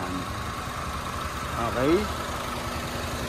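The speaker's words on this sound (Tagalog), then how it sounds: "Ganda ng timing ng makina mga boss." A 2.0-liter gasoline engine in a five-seat SUV idles with a steady low hum. Someone speaks briefly over it.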